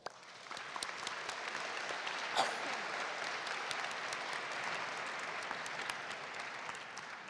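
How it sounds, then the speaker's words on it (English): Steady applause from a conference audience at a model UN opening ceremony, thanking the event's sponsors; sustained, even clapping from a large crowd, moderately distant, with no talking over it. "Please let us express our gratitude through an applause for all of our sponsors."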